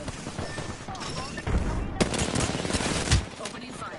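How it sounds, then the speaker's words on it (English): Rapid automatic gunfire from a squad opening fire in a shooter game, dense bursts of close shots that erupt louder midway and continue in a sustained fusillade. "Opening fire."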